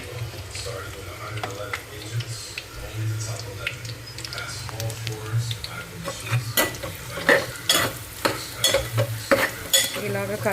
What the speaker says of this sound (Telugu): ఇది మొత్తం పచ్చడి వేసేసుకొని కలిపేసుకోవడమే.